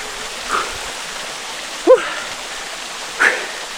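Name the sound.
small waterfall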